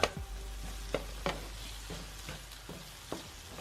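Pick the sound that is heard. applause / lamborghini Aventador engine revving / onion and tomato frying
onion and tomato frying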